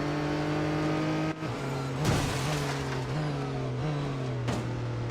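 Race car engine in Real Racing 3, an Acura ARX-06 prototype, droning steadily with shifting pitch as it closes in and overtakes, a brief dip then a surge of revs, loud and continuous.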